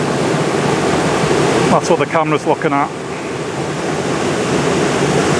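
Waterfall on the Elidir Trail, a constant loud rushing of falling water, briefly overlaid by someone speaking close by before the steady roar carries on alone.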